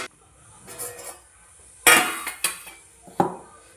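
A lid set down over a bowl of freshly kneaded dough for curd paratha, giving a few sharp metallic clinks and clatters, with one loud knock and two or three lighter taps spread apart, close by and alone.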